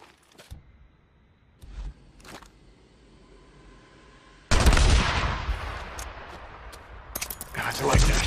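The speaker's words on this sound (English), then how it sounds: "Gunshots. What's going on?" Gunshots in the open-world survival game Days Gone. A few sharp isolated cracks come first, then a loud sustained burst of gunfire with dense rattling reports that builds again toward the end.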